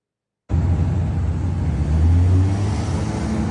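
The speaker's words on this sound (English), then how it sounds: "That sounds like traffic." Steady, loud road traffic rumbles close by with a low engine drone that swells slightly midway, continuous without pauses or voices, during a shooting rampage in Atlanta.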